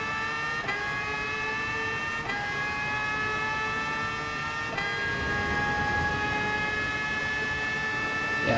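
A Red Bull X2019 race car screams through a video game lap at Sardegna, its high engine whine climbing steadily and dropping with each of three quick upshifts before rising again, loud and continuous.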